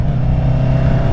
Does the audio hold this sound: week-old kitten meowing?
no